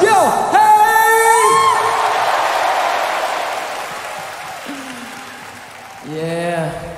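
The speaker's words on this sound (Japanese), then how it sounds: "そして大きな拍手を" Large arena concert audience cheering and applauding, a loud sustained crowd roar that fades gradually, with amplified voices calling out over it at the start and end.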